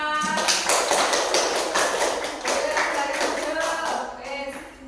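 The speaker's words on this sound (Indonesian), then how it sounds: "tepuk tangan untuk Mas Java" Classroom audience claps for a presenter after a group report, a sustained run of sharp, overlapping hand claps at fairly even strength, easing slightly toward the end with faint voices underneath.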